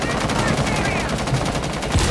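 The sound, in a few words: gunfire shooting bandit charges in Rainbow Six Siege video game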